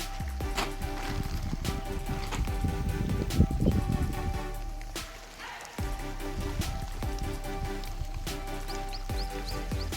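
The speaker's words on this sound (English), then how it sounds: "Now it's raining quite heavily." Heavy rain drums steadily at a fish-farming site, where fingerlings are being stocked, with broadband hiss and patter throughout and a brief dip in the middle.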